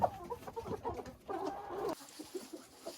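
Dominant-breed chickens cluck close by in short, choppy bursts, with a rooster's fuller call mixed among the hens' quieter clucks.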